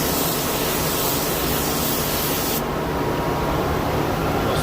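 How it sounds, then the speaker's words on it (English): Paint toner sprays onto a color check card in a steady, close hiss. It runs without a break for several seconds, with no talking. "I'll spray that out"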